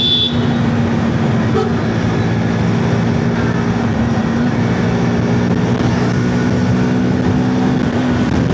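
Loud, steady roaring wind buffets a rider on a Hero Xtreme 160R 4V motorcycle during a highway trip from Bogura to Dhaka, a constant broadband rush with a low engine drone beneath and no letup.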